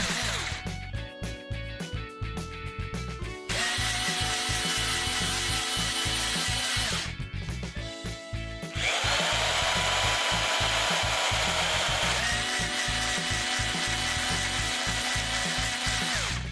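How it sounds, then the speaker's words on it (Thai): A power drill whirs in repeated bursts as screws are driven into wood to join boards together, with a steady beat of music playing underneath. "โดยเราจะใช้สกูและสว่านในการยึดไม้ให้ติดกัน"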